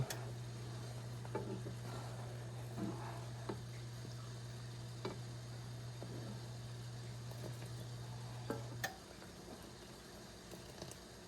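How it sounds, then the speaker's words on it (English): A spoon stirs sugar into a thickening mixture in a pot with soft, intermittent scrapes and taps over a steady low hum, quiet and close, with no talking. "Make sure all that sugar's stirred in real good."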